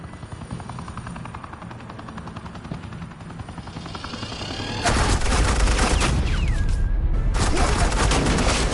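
Sustained suppressing gunfire in the Batman: The Enemy Within video game, loud rapid bursts over a continuous helicopter-like roar, swelling sharply midway with a brief whistling sweep, no talk.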